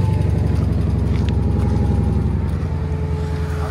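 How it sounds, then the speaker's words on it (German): A Mercedes S500 V8 engine idles steadily and loudly with a deep, even rumble after a cold start, running continuously without pause. "Kaltstart."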